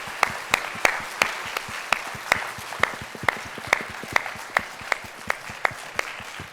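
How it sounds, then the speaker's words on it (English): A university public-lecture audience at the Chinese University of Hong Kong claps steadily, with loud, evenly spaced sharp claps standing out over a continuous wash of applause throughout. "So shall we all give a big round of applause,"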